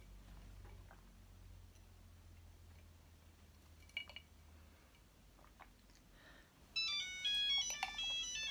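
A telephone rings with a bright electronic trill that starts near the end, after a quiet stretch of faint ticks and small clicks in a room.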